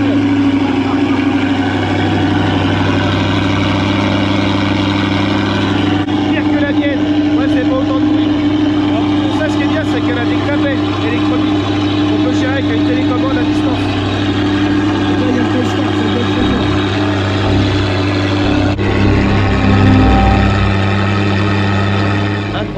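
A Honda CBR motorcycle with a full exhaust system starts and settles into a loud, steady, deep idle that rumbles close and continuous, with people talking over it.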